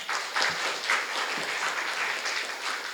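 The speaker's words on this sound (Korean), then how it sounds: "여러분 다시 한번 큰 박수 부탁드릴게요" An audience at a business forum on digital transformation for mid-sized companies gives a brief burst of dense, even applause from many hands, with no talk.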